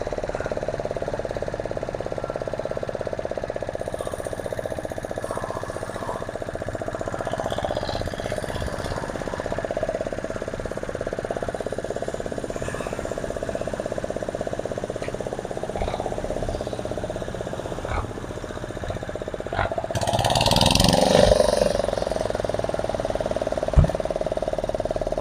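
A tractor engine runs steadily outdoors at a farm, a continuous rough mechanical chug with knocking undertones, rising into a louder surge near the end before settling back; no clear talking.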